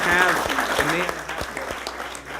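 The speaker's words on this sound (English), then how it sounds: "Let's give him a round of applause" Applause from a city council meeting audience, a steady round of clapping that fills the room, with voices talking over it throughout.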